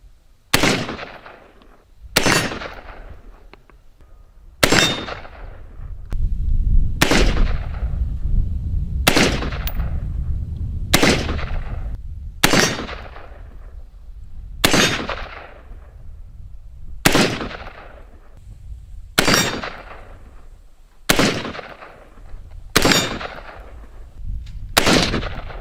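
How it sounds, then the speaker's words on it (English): An M1 Garand rifle is fired in a steady series of about a dozen loud, sharp shots spaced a couple of seconds apart, each followed by a rumbling echo, with no talking. "This is the Garand, the M1."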